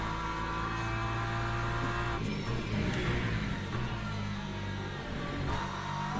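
Race car engine droning in the Le Mans Ultimate sim at Silverstone, a continuous loud buzz with shifting pitch as the car slows and accelerates through corners.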